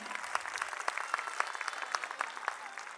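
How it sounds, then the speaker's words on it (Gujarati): Steady applause at a school results event, with many hands clapping unevenly and sharp individual claps standing out throughout. "આ બધા વિદ્યાર્થીઓ માટે તાળીઓનો ગડગડાટ તો થવો જ જોઈએ ને."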